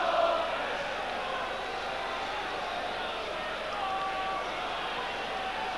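Steady roar of a football crowd at a Crystal Palace versus Swindon Town match, a dense, continuous wash of distant voices holding at an even level throughout.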